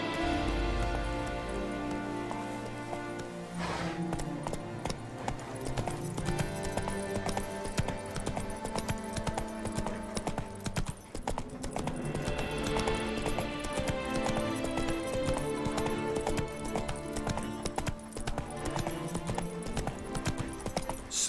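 Hooves of the horse Roach gallop in The Witcher 3, a steady rapid clip-clop close by that runs throughout under a layered music score.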